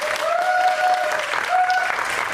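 Audience applause fills a packed cinema auditorium during a stage greeting for the 2024 film Hijack 1971 at CGV Yongsan, steady and dense throughout, with a faint voice tone lingering over it.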